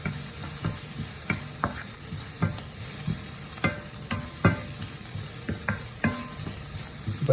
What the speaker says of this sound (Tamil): சின்ன சீரகம் ஒரு கரண்டி போட்டுட்டு வடிவாக கிளறி விடுவோம்